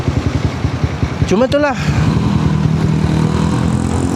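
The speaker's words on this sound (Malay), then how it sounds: "motor aku timing chain terlampau bising tau." A Honda CBR250R motorcycle with a noisy timing chain idles steadily with a rhythmic engine pulse throughout, while someone talks over it briefly.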